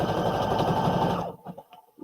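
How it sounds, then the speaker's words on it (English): A sewing machine stitches a Simplicity S9456 pattern piece in a steady close whir for over a second, then stops, leaving a few soft handling noises. "Sew that in place."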